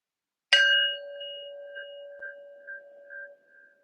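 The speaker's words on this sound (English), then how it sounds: "we will start with 3 sounds of the bell" A meditation bell gives one clear struck ring that hums and slowly fades over about three seconds, alone in silence.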